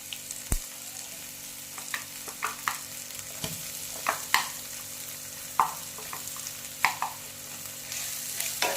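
Ground chickpeas fry in oil with mustard seeds and asafoetida for a stuffed okra filling, giving a quiet, steady sizzle broken by frequent scraping and tapping of a spoon against the pan.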